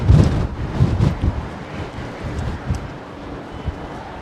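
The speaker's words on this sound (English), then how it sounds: "Blustery conditions here." Blustery wind at London Heathrow Airport buffets the microphone in rough gusts, loudest at the start and then settling into a steadier rumble.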